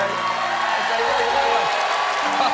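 A comedy show's studio audience gives steady, sustained pity applause with some cheering, a dense wash of clapping throughout while someone speaks over it.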